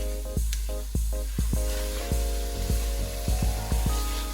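A spoon scrapes and clacks in a rhythmic series against a pan of smothered cabbage cooking over medium-high heat, with a faint sizzle beneath a steady low hum.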